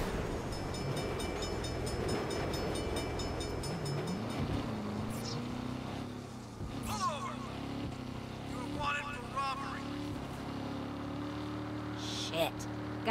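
A train rumbles past in the Saints Row video game during a police chase, a loud sustained low rolling roar with clanking and brief high screeches, mixed with game effects and voice chatter.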